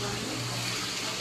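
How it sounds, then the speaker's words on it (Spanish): Running water rushing steadily and close, a dense continuous splash with no pauses, heard alone over a short moment. "está un poquito ruidoso por el agua"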